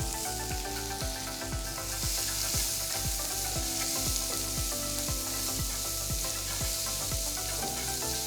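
Mustard seeds, asafoetida and finely chopped onion sizzle loudly in hot oil, a dense continuous frying crackle with steady rhythmic stirring or scraping underneath, close and unbroken.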